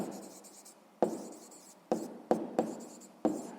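A pen scratches out a fraction by hand on paper in a quiet room, six crisp strokes starting sharply at uneven intervals, each fading quickly.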